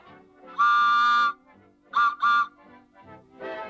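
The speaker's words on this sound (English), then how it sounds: "This is a whistle that comes off of the Helms Bakery." A loud, shrill Helms Bakery delivery whistle blown three times: one long blast, then two quick short ones, with quiet room noise between.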